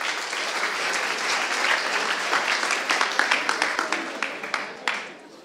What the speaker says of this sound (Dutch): Applaus voor Carlijn Posma,